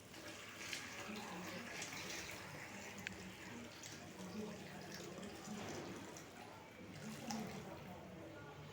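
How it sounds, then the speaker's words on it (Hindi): Boiling water is poured over cut potatoes for crispy masala chips, a steady gushing, splashing pour that runs unbroken from start to finish. "तो इसमें आप उबलता हुआ पानी डाल देते हैं।"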